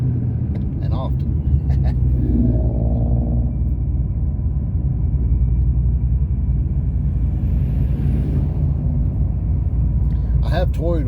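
Paxton supercharged 550 RWHP 3V Mustang cruising at around 30 mph, a steady low engine and road rumble throughout while someone talks over it.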